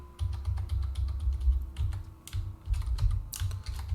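Someone types a password on a computer keyboard, a quick, close run of clicking keystrokes with a deeper thump on some keys, continuing with short pauses and no voices.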